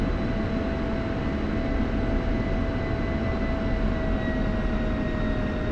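An F-16 taxiing on the ground in DCS World, a steady, loud jet engine whine and rumble with a high tonal hum, continuous and unchanging throughout with no voices.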